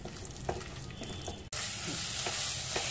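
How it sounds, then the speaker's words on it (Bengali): Boiled potato and cauliflower sandwich filling is stir-fried on high heat, a continuous sizzle with scraping stirs that swells louder partway through, after a brief pause. "এটাকে মিশিয়ে 2 মিনিট মতন একটু হাই হিটে ফ্রাই করে নেব"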